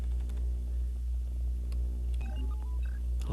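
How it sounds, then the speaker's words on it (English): Soft electronic beeps and short computer tones chirp over a steady low hum, with a few brief bleeps toward the end. "I love the little computer sound there"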